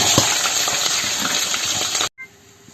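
Cumin, onion and green chillies sizzle in hot oil in a kadai, a dense, steady frying hiss up close that stops abruptly near the end, leaving a quiet hum.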